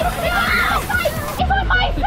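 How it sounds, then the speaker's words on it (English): Water from a waterfall splashes and sloshes onto riders on a theme park ride at Alton Towers, a brief heavy splash beneath excited voices and shouting. "Oh, it's a waterfall now."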